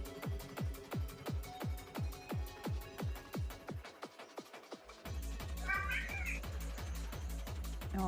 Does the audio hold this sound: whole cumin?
no